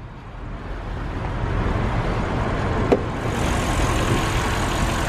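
An Audi RS6 Performance with its 4-liter twin-turbo hot-V V8 idling, a steady low rumble with broad noise heard up close, holding even throughout apart from one brief click near the middle.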